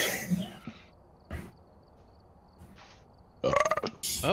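A short burp sounds near the start during a live Phasmophobia gaming session, followed by scattered quiet noises and a burst of voices and game sounds toward the end.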